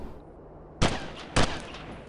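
Two loud gunshots ring out in the video game Delta Force Task Force Dagger, about half a second apart, each a sharp broadband crack with a short tail, over quiet background noise.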